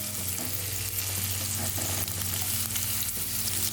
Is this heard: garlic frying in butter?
yes